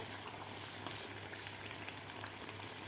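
Green chillies for mirchi bhaji deep-frying in oil on a medium gas flame, giving a faint, steady bubbling hiss with a few small pops and crackles scattered through.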